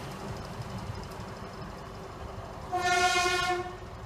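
A U-boat locomotive-hauled train passes Swinderby on a service to Newark Northgate, a steady rail rumble building before a loud, sustained horn blast of about a second near the end.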